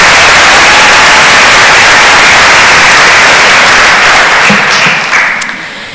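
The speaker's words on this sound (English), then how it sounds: "let's give all of our scholarship winners another round of applause" A high school graduation crowd applauds its scholarship winners, a loud, dense wash of clapping that holds steady and then begins to thin and fade near the end.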